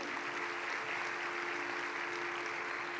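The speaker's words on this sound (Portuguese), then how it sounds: "E eu quero que a gente receba o pastor Wilton Aragão com uma salva de palmas." A church congregation applauds steadily to welcome a visiting pastor at a live worship service, a dense, continuous wash of many hands clapping at even loudness throughout, with a faint sustained hum underneath.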